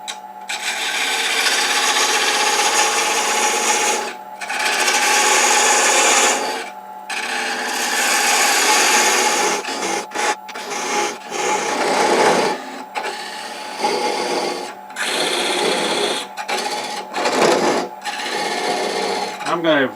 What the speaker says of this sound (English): I'll take a thin parting tool and part down on both sides.